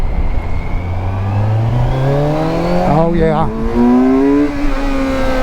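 A Kawasaki Versys 1000 motorcycle accelerates hard, its engine note rising steadily through the gears with a brief dip at a shift. The exhaust stays prominent and close, and a rider's voice speaks briefly over it.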